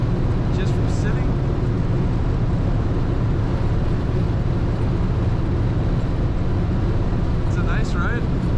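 A 1940 Cadillac Series 60 Special Fleetwood cruising in top gear at about 55 mph, with a dense, steady roar of engine, road and wind noise filling the cabin and brief squeaks near the start and end.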